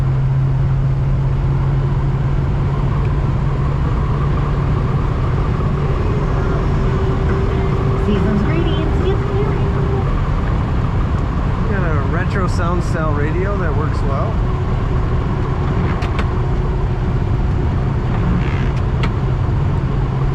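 A 1966 Pontiac GTO convertible driving on a dry winter road in Minnesota, giving a steady low engine and road drone throughout under continuous talk from a person inside.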